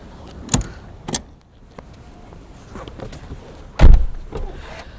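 A MINI Cooper door and body sound as someone climbs out: a few sharp thumps and clicks, then one loud close door slam, with quieter rustling between.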